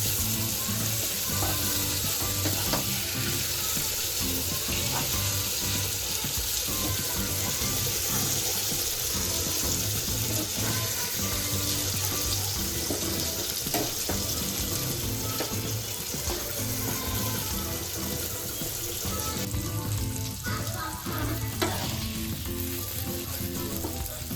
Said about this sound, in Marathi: आता एका साईडने हे व्यवस्थित फ्राय झाले, तर आपण दुसऱ्या साईडने फ्राय करणार आहे आणि परतून घेतोय आपण.